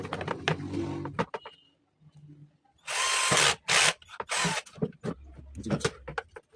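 Power drill boring holes into a plastic chair during a DIY repair, several short bursts of drilling, loud and close, separated by pauses with handling noises.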